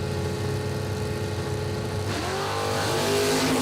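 Drag race cars launching at a footbrake racing event, engines roaring loud and close, then revving sharply upward as they pull away, with no talking.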